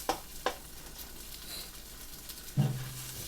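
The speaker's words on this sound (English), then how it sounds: "Hash browns still cooking." Hash browns and eggs frying in a single skillet for a country breakfast, a soft steady sizzle with a few light clicks of a utensil and a louder scrape near the end.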